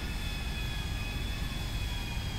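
A fixed-wing airplane takes off in GTA 5, giving a steady, dense engine roar with a high whine running through it. The sound holds at a constant loudness throughout with no talk.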